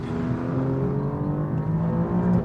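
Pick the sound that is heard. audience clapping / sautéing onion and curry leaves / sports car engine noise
sports car engine noise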